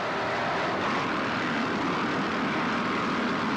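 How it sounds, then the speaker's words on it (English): A 1986 NPBA Gateway Regatta offshore racing powerboat roars past, a loud, dense, unbroken engine drone that stays steady for the whole stretch. "Offshore powerboat racing at its best."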